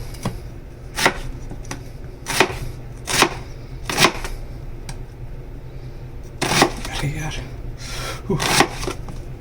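A knife chopping onion on a cutting board, sharp close chops in an irregular rhythm with brief pauses between bursts, with no voices.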